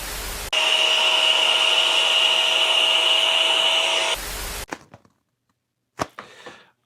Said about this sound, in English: let me try to blow this up and see if he's going to hold air for me